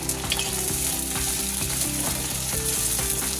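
Tomato and okra tossed into hot oil in a frying pan for a Malayali anchovy fish curry, giving a steady, loud broadband sizzle with no voices over it.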